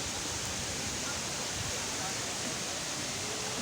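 Hinulugang Taktak waterfall in Antipolo, a steady broadband rush of falling water filling the whole clip at a constant level, loud and close with no break.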